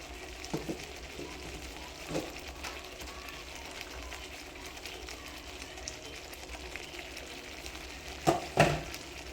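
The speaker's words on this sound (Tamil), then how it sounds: "இப்போ சார்டின் போட்டு ஒரு 2 மினிட்ஸ் ஃப்ரை பண்ண போகிறோம்." Sardines frying in a hot pan give a steady, even sizzle throughout, with a few sharper clanks and stirring knocks near the end.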